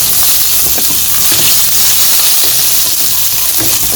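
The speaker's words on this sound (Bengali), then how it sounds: "আলু ভেজে নেই, তারপরে টমেটো দেবো পরে।" Potatoes fry in fish oil in a pan, giving a loud, close, steady sizzle and crackle that runs unbroken for the whole stretch, with no voices.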